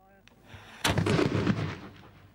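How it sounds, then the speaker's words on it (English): Replica Tudor cannon from the Mary Rose fired with a small test charge: one sharp, booming report that decays over about a second and a half, heard at moderate distance with no talk. "The first shot is fired."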